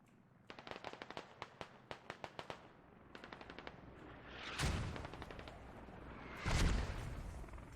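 Rapid gunfire from a competitive shooter video game match: bursts of sharp automatic shots in quick rhythmic clusters, followed by two louder, heavier blasts, heard alone without talk.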